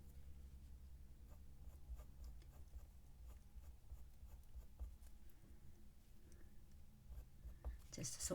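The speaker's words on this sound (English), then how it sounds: "And we are going to use the watercolour pencil today." A watercolour pencil scratches and scrapes across paper while drawing a fox, faint and close, with irregular small strokes and taps over a quiet low hum.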